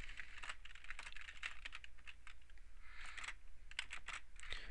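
Computer keyboard being typed on to enter a telnet server command, a quiet rapid patter of key clicks in uneven bursts, close and alone with no voices.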